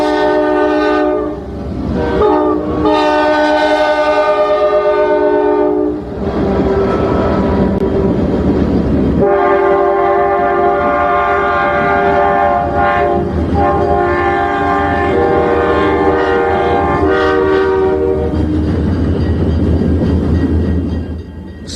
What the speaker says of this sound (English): One train's going by the other one.